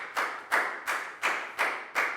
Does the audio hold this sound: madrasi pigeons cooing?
no